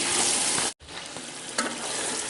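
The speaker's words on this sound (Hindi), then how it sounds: "हमारे मसाले को जो है वो भुनते हुए जो तकरीबन 2 से 3 मिनट हो गए हैं" Masala spices frying in a karahi for chicken karahi, giving a steady close hiss and crackle with stirring scrapes throughout, cut by one brief silent gap.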